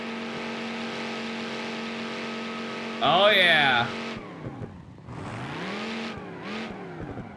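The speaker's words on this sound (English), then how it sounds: "I know it is an inline 8. It just sounds mean." An inline-8 engine in a classic car revs hard in one sharp burst of rising and falling engine pitch, then settles to a rough idle and blips a few more times while a person talks over it.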